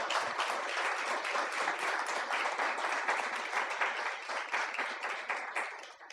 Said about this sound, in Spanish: Dele un fuerte aplauso al Señor porque Él vive.